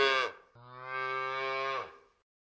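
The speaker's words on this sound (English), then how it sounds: "Calf." A calf moos up close with a brief call, then a longer, drawn-out moo, and no other sounds around.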